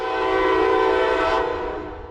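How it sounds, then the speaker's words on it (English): An Amtrak train hauled by an ACS-64 electric locomotive passes close by on the local track, a loud, steady rumble with a sustained horn-like tone that fades slightly toward the end. "the train passes by on the local track"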